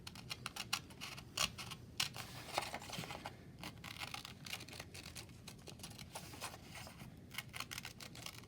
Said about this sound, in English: grab your small green circle, and you're going to cut this out